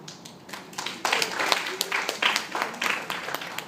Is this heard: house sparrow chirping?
no